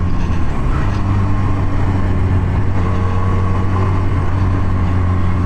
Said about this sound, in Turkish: Ses de fena değil motor sesi.